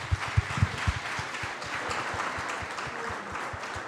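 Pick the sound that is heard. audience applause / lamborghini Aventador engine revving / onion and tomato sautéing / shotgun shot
audience applause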